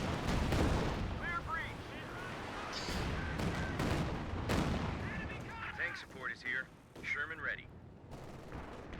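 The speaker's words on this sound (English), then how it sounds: "getting wiped here by the barrage in the retreat" Heavy artillery barrage in a WWII strategy game, a rapid cluster of booming impacts and gunfire up front that thins out as a commentator talks over the later part.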